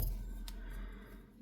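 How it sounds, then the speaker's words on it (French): Scissors snip through crochet yarn at the finish of a doll dress for an amigurumi doll, one short close cut with a brief sharp click, then quiet handling. "Une maille en l'air et je vais couper le fil."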